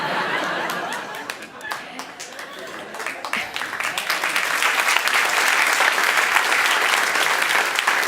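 Audience applause at a comedy show, steady clapping that swells and grows louder toward the end, mixed with scattered chuckles and crowd murmur.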